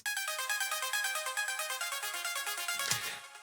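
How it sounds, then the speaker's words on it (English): Bright synth plucks from reFX Nexus presets repeat in a quick, steady pattern of short bell-like notes, with a brief soft thud near the end. "the final thing that I want to talk about is the pluck sounds"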